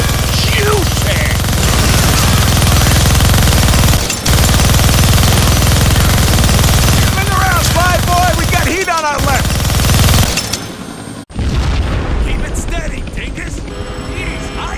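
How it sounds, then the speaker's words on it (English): A minigun in the Deadpool video game fires a loud, continuous roaring burst for about ten seconds with brief breaks, while game voices speak over it. "Gonna need both hands to shoot that minigun."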